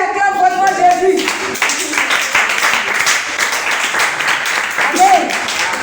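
Church congregation clapping and applauding during a worship service, dense sustained applause filling the room while voices call out over it.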